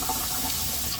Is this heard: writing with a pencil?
no